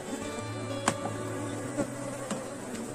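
Honeybees buzzing steadily around an opened hive box in an apiary, a dense close drone with a few louder passes of individual bees near the listener, no speech.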